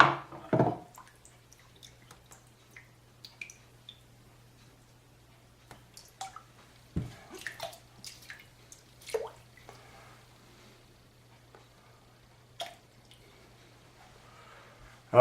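Bloom water is poured out of a shave soap container: a short splash and dribble, followed by scattered close drips, small wet knocks and light handling sounds in a quiet room with a faint hum.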